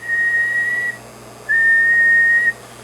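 A man whistles two long, steady single-pitch notes into a microphone feeding a modded Palomar 350Z sweep tube linear amplifier on the bench, with a short gap between them over a faint low hum.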